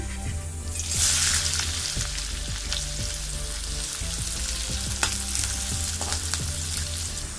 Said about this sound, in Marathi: 1 चमचा तेल, कांदा घालूया